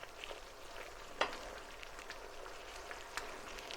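Marinated beef sautéing in a pan, a soft continuous sizzle and crackle with occasional sharper pops and scraping as it is stirred, quiet and close.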